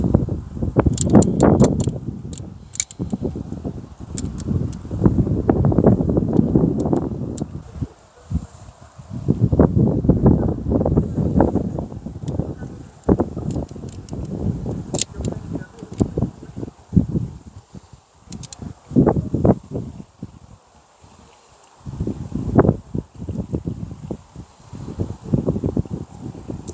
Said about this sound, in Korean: 지금 바람 소리 들리나요?